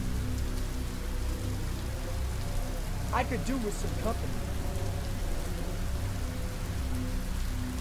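Steady pouring rain hisses continuously through a horror video game scene, with a brief low rumble partway through and a voice speaking a short line over the downpour.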